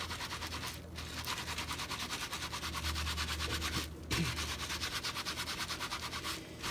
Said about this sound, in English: Want to make sure that you rub in every direction, every side, the top, the bottom.